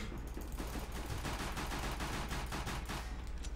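Rapid, dense gunfire from a Counter-Strike: Global Offensive match, with shots crackling in a near-continuous burst that fills the whole moment at a fairly loud level, and no talking over it.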